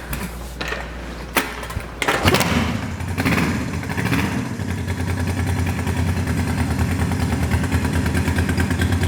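A 48-hour challenge project motorcycle gives a few clicks and clunks as the key is worked, then catches at about two seconds. It settles into a loud, steady idle that runs to the end.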